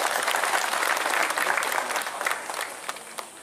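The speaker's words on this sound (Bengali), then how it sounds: "আমি চাইবো তাদের জন্য একটা জোরে হাততালি যদি আপনারা দেন" Loud, dense applause from an audience at a distributors' day celebration, steady for about two seconds and then thinning into scattered claps toward the end.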